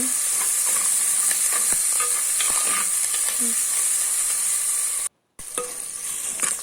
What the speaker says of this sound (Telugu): ఉల్లిపాయలు త్వరగా మగ్గాలంటే ఉప్పు ముందు వేసుకోవాలి వేసుకొని ఒకసారి కలుపుకోవాలి ఉల్లిపాయలు మగ్గిపోతున్నాయి